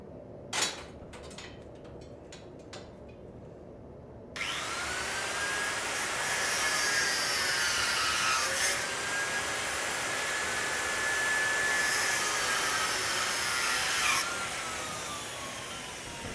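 An angle grinder spins up with a sudden loud whine after a few light knocks, then cuts continuously at close range, its pitch wavering as it bites, and finally winds down.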